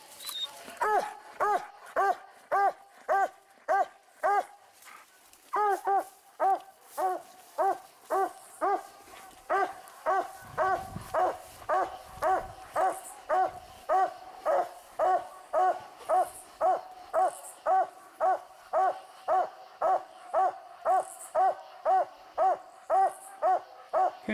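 Hounds bark steadily and loudly at a raccoon treed in a tree. The barking is nearly continuous, with a fast, repetitive rhythm of bawling, hoot-like bays from close by. A brief low rumble passes midway through.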